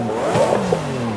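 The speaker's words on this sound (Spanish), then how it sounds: "vamos a escuchar un poquito cómo suena este auto" A Lamborghini Countach LPI 800-4 engine revs in Forza Horizon 5. It is a brief, loud burst with rising and falling engine tones and no talking.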